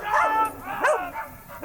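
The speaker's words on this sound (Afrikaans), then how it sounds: "honde wat jag." Hunting dogs barking and yipping in short, close, excited bursts, several sharp calls over a couple of seconds with brief gaps between.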